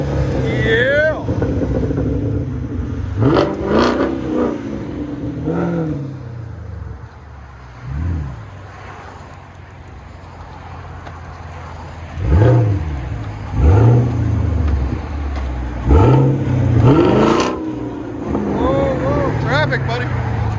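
A Chevy Camaro SS with a 6.2L V8 and dual exhaust fitted with Dynomax Race Bullets revs in several loud, rising bursts close by, with idle rumble in between and people talking over parts of it.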